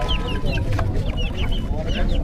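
Chickens cluck and squawk at a busy Saturday hen market in Mydukur, Rayalaseema, with repeated calls over a dense crowd murmur and people talking nearby.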